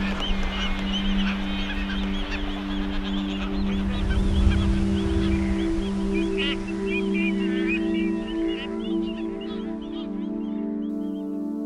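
An albatross colony on sub-Antarctic Amsterdam Island calls continuously, with overlapping honking, goose-like cries near and far over a steady low drone.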